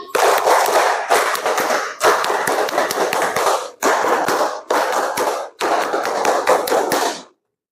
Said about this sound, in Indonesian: Tepuk pramuka 2 kali